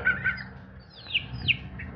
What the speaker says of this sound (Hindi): यहाँ सारे चूजे बैठे हैं